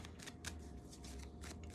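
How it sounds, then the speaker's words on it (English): Tarot cards being shuffled by hand during a reading, a continuous close riffling and flicking rustle with soft repeated snaps over low background hum. "I've had to shuffle the cards or they just pop out"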